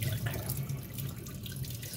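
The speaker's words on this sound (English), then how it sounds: "Thoroughly wash the pen. See if the stuff comes off." A glass dip pen is rinsed under a running tap, with a steady close rush of water splashing into the sink throughout.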